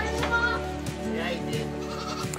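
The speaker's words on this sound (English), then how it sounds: "Behind me here is where we've got the bucks, or the male goats." Male goats, bucks kept in a pen, bleat loudly and close by in wavering, quavering calls that overlap one another, with faint farmyard background and no clear talk.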